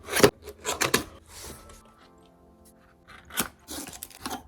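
Cardboard and plastic rubbing and rasping while a Monsgeek MG75 budget keyboard package is unboxed, with scattered close scrapes and crinkles, a quieter pause in the middle, then more handling noises.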